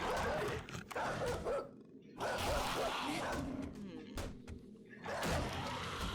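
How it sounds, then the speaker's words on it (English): Gruff barks and growls from a dog or wolf in the survival video game 7 Days To Die, heard in loud bursts mixed with thuds and game noise and broken by brief gaps. "That is a dog."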